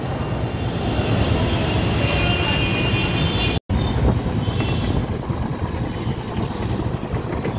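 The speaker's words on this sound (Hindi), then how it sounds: "ये चल रही है हमारी मेट्रो" A loud, steady rumbling roar of a metro train passing close by beside a highway near Akshardham, continuous throughout with a brief cut partway, no talking.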